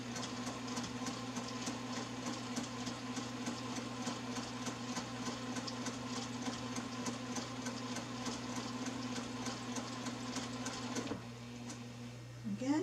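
Domestic sewing machine with a walking foot stitching a quilt, a steady fast mechanical whir and rhythmic needle clatter running continuously nearby, then stopping near the end at a corner, with faint talking.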